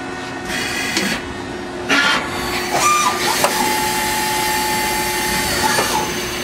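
A Citizen M32 CNC Swiss-type lathe runs steadily with a loud mechanical whir and hum, a sustained tonal whine and occasional clunks as it cycles nearby.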